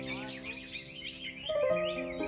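A green leafbird (cucak ijo) sings in the ngentrok style, with bright, rapid chirps and warbles running continuously over a steady tonal background that grows slightly louder near the end.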